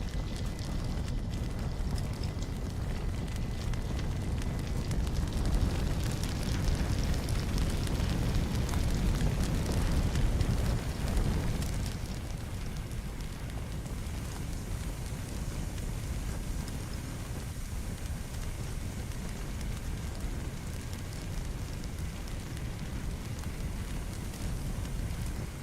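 Fire burning in the video game Firefighting Simulator The Squad makes a steady, dense roar and crackle that stays constant and loud throughout, easing a little partway through but never stopping.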